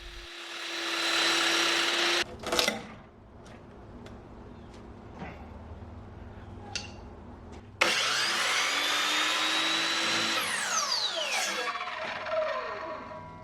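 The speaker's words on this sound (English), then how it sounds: "headed over the miter saw to start cutting everything down to" A miter saw cuts reclaimed lumber to size for a rustic table, with two loud motor whines around the cuts and faint clicks and knocks of handling the wood in between, close and with no talk.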